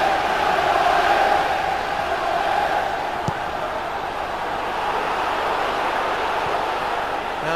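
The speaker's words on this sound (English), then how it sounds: "Listen to the Villa crowd" A 1997 UEFA Cup crowd of Aston Villa supporters roars in the stadium, a broad sustained wash of voices with a tonal chant-like hum rising early and then steadying, one sharp knock midway.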